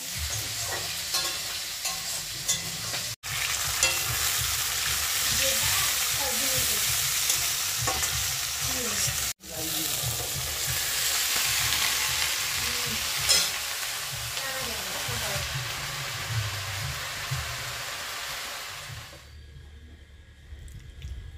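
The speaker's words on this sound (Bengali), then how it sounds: "একটুখানি মাছের তেল রেখেছি, আর এখানে যে কালো জিরে দিলাম, এখানে দিয়ে দিচ্ছি রসুন আর কাঁচা লঙ্কা" Garlic and green chillies sizzle loudly with nigella seeds in hot fish oil for taro greens, a steady close crackle with occasional stirring scrapes and two brief breaks before the frying stops abruptly near the end.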